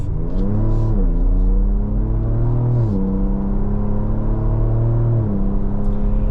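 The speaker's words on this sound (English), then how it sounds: "I have the exhaust sound set on sport." A 2025 Ford Ranger Raptor's twin-turbo V6 exhaust in sport mode, accelerating hard through several gears, a loud droning engine note climbing in pitch and dropping at each shift, close and continuous.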